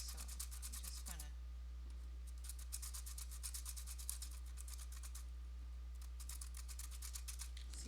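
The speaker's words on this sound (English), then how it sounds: "see if I can figure out how to sharpen it" A Cretacolor pastel pencil is rubbed on sandpaper to sharpen it, giving rapid rhythmic scratchy strokes in bursts over a steady low electrical hum, close and fairly quiet, with no talking.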